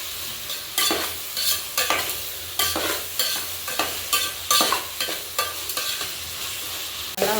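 Tomatoes sauté in a pan with a hiss, and a spatula scrapes through them in repeated rhythmic sweeps, loud and close, with no voices.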